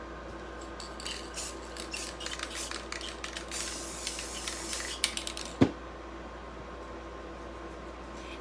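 Matte spray paint hisses from an aerosol can indoors while crafting mini faux apple pies, a steady mid-level spray with a sharp click or knock near the end.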